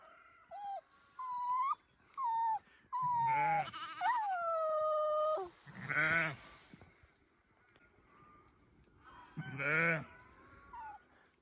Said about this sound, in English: little bit trickier herding little lambs